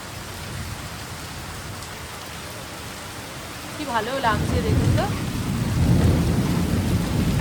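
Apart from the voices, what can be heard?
rain with rumbling thunder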